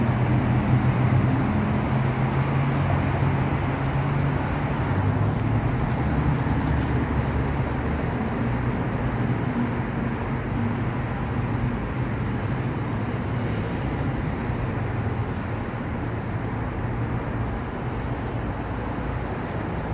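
Steady roadway rumble of cars idling, pulling up and driving off at a gas station at MLK and Camino al Norte in North Las Vegas, loud and continuous with no speech.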